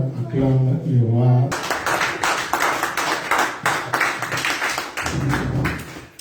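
A church congregation claps in rhythm to acclaim the king, loud steady applause with sharp repeated hits after a man's sung or spoken voice, with voices rising again near the end.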